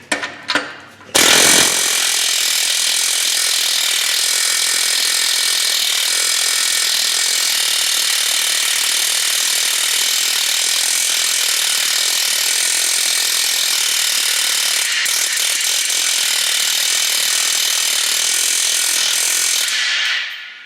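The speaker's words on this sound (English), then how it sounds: "It's air hammer time." A loud air hammer works on a Mazda Miata MX-5 during a clutch replacement, running continuously for about twenty seconds, a dense rapid mechanical hammering after a brief start, with no voices.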